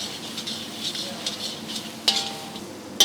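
Thick raw mango thokku being stirred in a frying pan, with a steady soft sizzle under repeated scraping strokes and a couple of sharper utensil clinks near the end, no talking.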